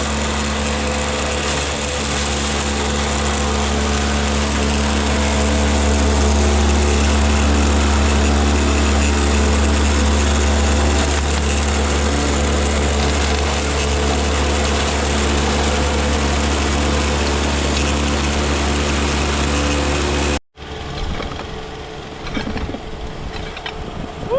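A dry washer used for gold prospecting runs with a loud, steady engine drone for about twenty seconds, then cuts out abruptly, leaving quieter outdoor sounds.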